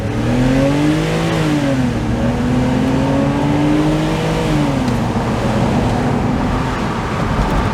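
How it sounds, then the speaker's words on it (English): A BMW Z4 on the road, its steady engine drone, which has harmonics that rise and fall as it changes speed, mixed with road and wind roar, loud and continuous throughout, with no talking. "here we are, driving what is soon to be my girlfriend Angel's new BMW Z4."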